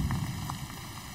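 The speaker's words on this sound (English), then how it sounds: "Okay, so here comes the rain" Rain begins falling in the Rhodope Mountains of Bulgaria, a soft steady patter of drops on surfaces close by, with no voices.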